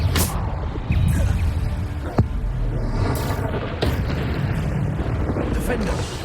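Bombarda explosion spells cast in Hogwarts Legacy during Niamh Fitzgerald's trial: a couple of short booms and thuds over busy combat noise, with voices speaking throughout.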